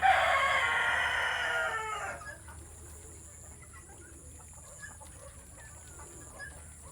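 Broiler chickens and old hens cluck on a farm; a loud burst of squawking opens, then it settles into sparse, quieter clucks over a low background hum.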